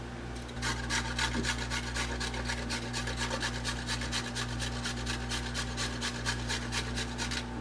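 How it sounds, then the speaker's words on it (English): Fresh turmeric root is scraped by hand in quick, even strokes, a close, dry rasping rhythm that repeats steadily over a low background hum. "Next, what we're going to do is we're going to scrape our turmeric."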